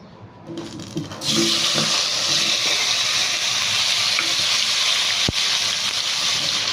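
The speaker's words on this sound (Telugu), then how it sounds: "ఇదే బాండీలో కొంచెం ఆయిల్ వేసుకుందాం మళ్ళీ టమాటో ఫ్రై చేసుకోవాలి కదా" Tomatoes hit hot oil in a kadai and burst into a loud, steady sizzle that keeps hissing close by, preceded by a quieter second of soft pan sounds and a brief clink partway through.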